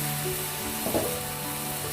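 Fish sauce sizzles and crackles in a hot pan, a steady frying hiss with a brief louder burst as it hits the surface.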